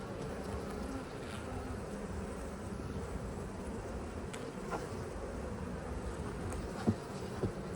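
Honey bees hum steadily around a beehive in a dense, continuous, moderately faint buzz, with a couple of brief knocks near the end and no voices.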